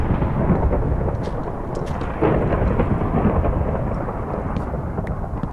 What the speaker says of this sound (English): Sorry, I won't try to talk over the thunder.